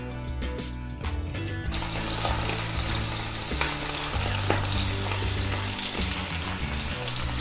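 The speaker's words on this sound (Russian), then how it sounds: "Теперь на сковородку добавляем еще немножко маслица и будем обжаривать фрикадельки." Meatballs fry in a pan of oil with a loud, steady sizzle that swells up suddenly and keeps crackling, along with a few clinks and stirring sounds.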